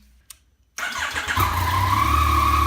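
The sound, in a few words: Yamaha FZ-09 motorcycle engine starting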